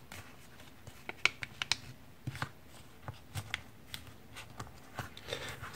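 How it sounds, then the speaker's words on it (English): Sheet of paper being creased and folded into a paper airplane, a string of soft crisp rustles and sharp flicks at an irregular pace, close and quiet with no talking. "And then I repeat the same fold for the other side."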